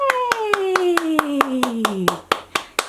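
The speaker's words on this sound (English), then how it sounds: "Yay! Clap with me." A steady series of sharp, evenly spaced hand claps runs under a descending sung tone, with a voice heard too.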